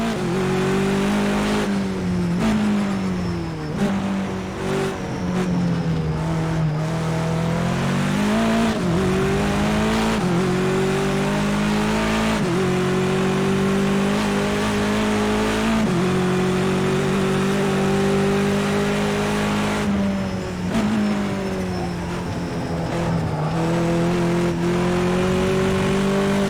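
A video game race car engine at Knockhill drones loudly and steadily, its pitch rising and falling as it revs through gears, continuous with no voices.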